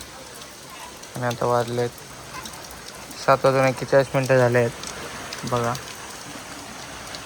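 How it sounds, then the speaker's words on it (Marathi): Steady first rain of the season falling in a village, a soft continuous patter throughout, with someone talking over it in short bursts. "पहिला पाऊस आमच्या गावात आज पहिल्यांदा"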